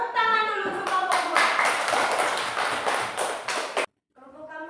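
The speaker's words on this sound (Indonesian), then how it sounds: "Tepuk tangan dulu untuk kelompok" A classroom of students claps for a presenting group, brisk uneven clapping that stops abruptly near the end, followed by a voice beginning to speak.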